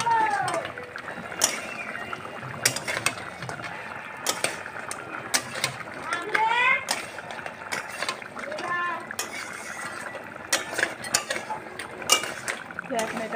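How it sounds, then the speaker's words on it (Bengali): Crab and mustard paste get stirred in a pan, with intermittent scraping and clinking of a spatula against metal at a moderate level while someone talks over it. "এবার সর্ষে বাটাটা দেওয়া হয়ে গেছে দিয়ে এবার ভালো করে নেড়ে নিই"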